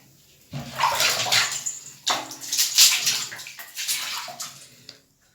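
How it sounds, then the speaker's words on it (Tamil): Water splashing and sloshing across dirty floor tiles during a light wash, coming in several loud, broad bursts with brief pauses between them and fading out at the end. "இப்போ லைட்டாக வாஷ் பண்ணி காட்டுறேன்."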